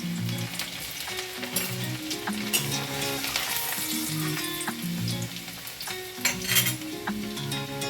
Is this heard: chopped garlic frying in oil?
yes